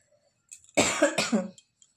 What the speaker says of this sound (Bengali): ঠান্ডা লেগেছে একটু একটু, সেই জন্য কাশি হচ্ছে খুব খুব করে